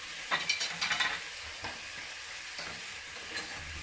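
Ribs sizzle quietly in a hot pan with sugar, with a few scraping stirs near the start, then a steady soft frying hiss.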